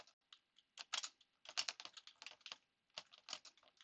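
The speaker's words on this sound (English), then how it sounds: "I'm going to type force of surface" Rapid bursts of typing on a computer keyboard while entering a spreadsheet formula, with clustered clicky keystrokes in irregular runs and short pauses, close and clear with no talk.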